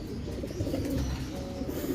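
Racing pigeons coo softly in a loft after returning through rain during training in Tayug, Pangasinan, giving low, repeated rolling calls close by with light background noise.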